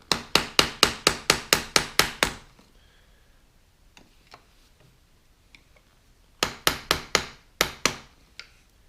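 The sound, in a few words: screwdriver tapped to knock off seat knob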